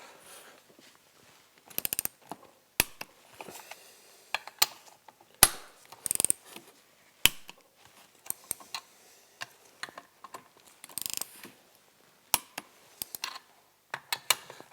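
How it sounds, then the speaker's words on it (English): A ratchet torquing the exhaust manifold bolts on a Ski-Doo Rev snowmobile engine with an RKtek 827 big bore kit, heard as bursts of rapid pawl clicking close up, separated by pauses and occasional metallic taps. "So I'm going around, I'm going to torque these down to 27 foot-pounds, and I'll come back around and I'll hit them up to 32."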